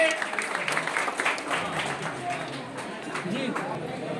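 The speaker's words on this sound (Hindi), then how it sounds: "एक जोरदार ताली होनी चाहिए सर के सम्मान में।" Applause from an audience at a foundation's anniversary event in a rural medical program setting, a steady wash of clapping at moderate level with voices mixed in throughout.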